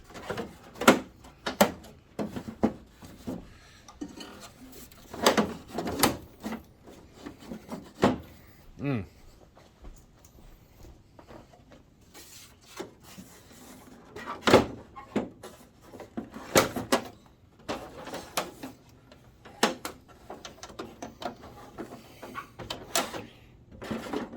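Plastic clicks, snaps and knocks as the filter door is fitted onto a Christie LX66 LCD projector during repair, scattered handling sounds between stretches of quiet talking.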